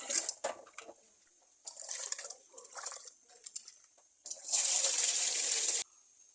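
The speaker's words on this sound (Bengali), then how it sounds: "চাউলগুলো আমি খুব সুন্দর করে পরিষ্কার করে ধুয়ে নেব" Rice washed under running water: close splashing bursts and swishing, broken by pauses, then a longer steady gush of tap water that cuts off abruptly.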